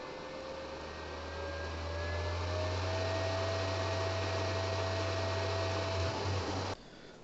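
A PowMR hybrid inverter's cooling fan spins up to a higher speed, a steady loud whir with a low hum and rising whine tones, running continuously before cutting off abruptly near the end.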